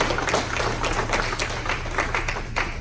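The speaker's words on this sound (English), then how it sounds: "Can we give Austin a round of applause?" Audience applause for Austin at a talk: a room of scattered clapping with sharp individual claps standing out, steady and fairly close for about three seconds, over a low hum.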